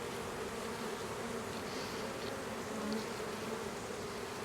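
A honeybee swarm buzzes steadily during a catch, a dense, continuous hum of many bees close by that holds at a fairly even level throughout.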